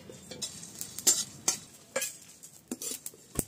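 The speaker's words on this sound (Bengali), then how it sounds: "গোটা জিরে, গোটা ধনিয়া, গোলমরিচ আর শুকনো লঙ্কা, খালি কড়াইতে ভেজে নিচ্ছি" Whole cumin, coriander seeds, peppercorns and dried red chillies are dry-roasted in an empty wok, with a close run of brisk scraping and rattling stirring strokes and a light crackle.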